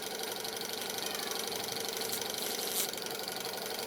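A Stirling engine model helicopter with plastic gears runs steadily, a fast close whirring buzz with a rapid mechanical knock throughout, alone without voices.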